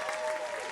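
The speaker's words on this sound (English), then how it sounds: "So round of applause." A brief burst of steady applause from an audience at a model competition show, a dense wash of clapping heard without speech.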